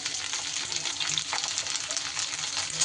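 Pointed gourd (potol) fries in a pan for a mixed-vegetable offering dish, a close, steady sizzle with soft stirring scrapes layered on top and no speech.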